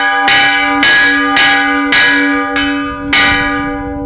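A church bell at a hacienda in Arandas, Jalisco, rings alone in five loud, evenly spaced strikes, each with a long bright ringing tail that overlaps the next.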